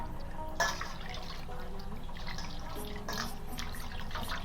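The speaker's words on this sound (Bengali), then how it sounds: "আমি হাতটা ধুয়ে নিচ্ছি ভালোভাবে" Hands are washed in a basin of water indoors, a continuous close splashing and trickling with a few louder sloshes and drips, no voices.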